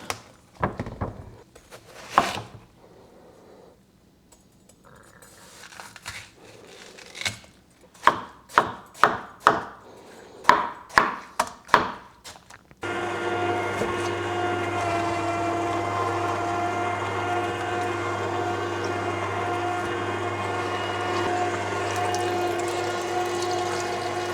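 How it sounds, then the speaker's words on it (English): Watermelon being prepared for juice: a series of sharp knife chops on a board, quiet at first and then quickening, followed by a blender starting and running loudly in a steady, continuous whir for the rest. "Let's go ahead and prepare our watermelon juice."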